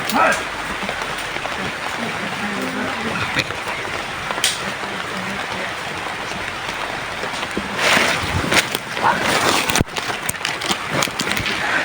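Rain patters steadily throughout, with a few louder gusts and splashes, while people talk nearby.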